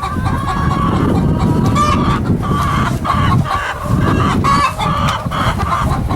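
Hens cluck and chatter continuously inside a chicken coop, a busy, close flock sound with overlapping calls and no talking.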